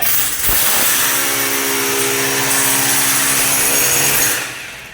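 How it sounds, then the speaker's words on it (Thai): A power drill bores into a wall during partition installation at a vocational training centre, starting with a short knock, then holding a loud, steady whine for several seconds before stopping near the end. "เราก็เจาะไปได้เลย"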